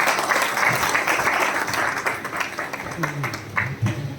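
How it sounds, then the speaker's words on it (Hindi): Audience applause for the speaker Tanmay at a motivational leadership event, a steady broad clapping wash that continues through the whole stretch with some voices mixed in. "तन्मय सर के लिए जोरदार ताली होना चाहिएगा, जोरदार ताली।"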